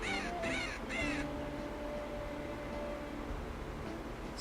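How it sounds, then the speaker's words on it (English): A caged bird in the Tiny Thief video game gives three quick raspy, crow-like squawks at the start, then quiet ambient hiss and a faint tone. "that looks like a slightly miffed bird in that cage"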